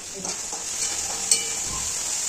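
Garlic and chili paste sizzling in oil while being stirred for a ridge gourd dish, a constant loud hiss with a few soft scrapes of the spoon, close by and with no talking.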